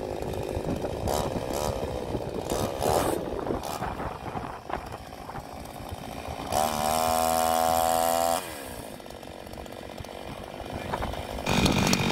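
A chainsaw runs on a cattle farm, its engine whining steadily and loudly for about twelve seconds, rising into a higher rev partway through, with no talking.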